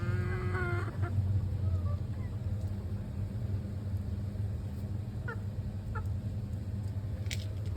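Chickens cluck and squawk close by over a steady low rumble, with a few sharp calls near the start and scattered short clucks later.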